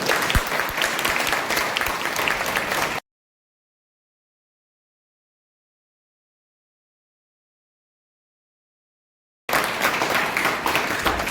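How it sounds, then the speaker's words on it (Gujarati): Loud, dense audience applause greets a guest at a mother-tongue festival at Shri Narmada College of Education, Mangrol; a few seconds of steady clapping, a long silent gap, then the applause resumes. "ફરી વાર આપણે સાહેબશ્રીનું તાળીઓથી ખૂબ ખૂબ અભિવાદન કરીશું"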